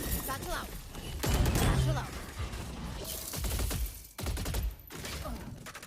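Bursts of rapid gunfire punched through walls during a competitive Valorant match, clattering over a busy mix of game sounds while commentators talk throughout.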